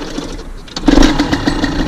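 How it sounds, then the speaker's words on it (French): A carbureted motorcycle engine idles after a carburetor adjustment, starting quieter and then settling into a loud, steady, slightly high idle with a throbbing pulse. "la moto elle tourne, elle fait pas de bruit"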